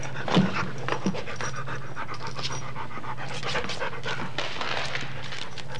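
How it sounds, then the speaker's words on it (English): A dog pants steadily and rapidly close by, a continuous run of quick breathy huffs with a couple of faint whimpers near the start, and no talking. "you be a good dog and stay here until after rehearsal, and then I'll feed you."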